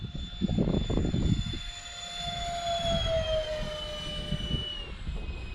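A Dynam Me262 radio-controlled jet with twin 70mm electric ducted fans makes a full-speed low pass, a high whine sliding down in pitch as it flies by, over a steady roar.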